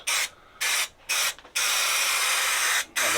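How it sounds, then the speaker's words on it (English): Spray contact adhesive hissing from an aerosol can onto a Land Rover Defender headliner, in three short bursts followed by one long steady spray and a final brief burst, close and loud. "So I'm just using a spray contact adhesive."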